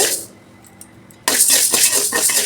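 Horse gram poured into a hot pan for dry roasting: a quiet moment, then an abrupt loud burst of rattling, sizzling grains that continues steadily with scattered crackles.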